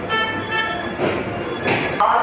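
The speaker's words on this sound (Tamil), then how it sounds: "உள்ளே எடுத்துகிட்டு வராங்க, ஷண்டிங் பண்ணுறாங்க பிளாட்ஃபார்ம் 3ல்." Mannargudi Manni Express being shunted into platform 3 at Chennai Egmore, with rumbling rail noise, a squealing wheel tone and clanks, nearby and fairly loud, under a voice talking.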